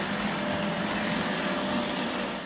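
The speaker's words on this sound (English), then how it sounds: "the machine does an excellent job of brushing and cleaning liquid into the carpet" A ROBOGEM carpet cleaning machine runs with a steady, loud broadband whir and hiss, close up, brushing cleaning liquid into carpet, with no voices.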